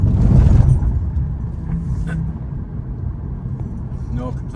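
A car engine runs steadily after an ignition coil replacement, a continuous low rumble with all cylinders firing evenly, close and loud, with a brief louder swell at the start.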